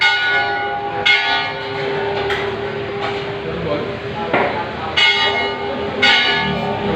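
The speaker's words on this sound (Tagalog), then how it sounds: "Pakinggan mo pa yung bell." A church bell at a Catholic parish shrine rings out at roughly one-second intervals, fairly near, its strikes ringing over a background of murmuring voices.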